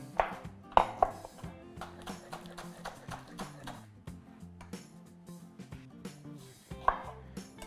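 A knife chops spring onion on a board in a steady run of crisp, close taps, with a few louder knocks standing out. A faint voice is heard in the background.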